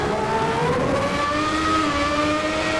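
A 1994-season F1 car in Assetto Corsa powers up a hill, its high-pitched engine note climbing steadily and loud, close and continuous with no pauses or voices.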